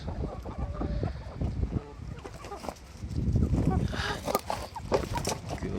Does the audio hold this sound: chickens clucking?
yes